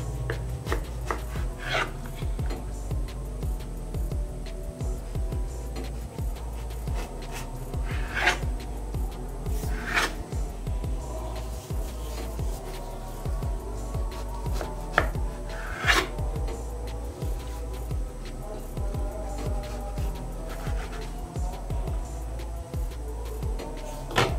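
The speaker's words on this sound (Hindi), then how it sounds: "अब हम इसकी कटिंग करते हैं सेंटर से।" A knife cutting through a soft, slightly sunken homemade cake from the center, giving quiet soft cuts and occasional light taps on the plate spaced out over a long stretch, with faint low background hum.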